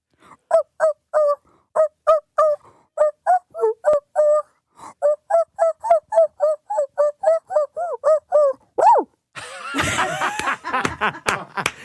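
A man vocally imitates a dog, barking out a Christmas tune as a rhythmic run of short, pitched yaps grouped into phrases, loud and close, then breaks into laughter with other voices at the end.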